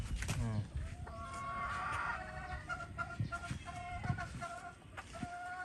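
Several hens in a gamefowl farm's breeding section cluck and murmur nearby in a continuous overlapping chatter, with occasional louder calls and some faint background noise.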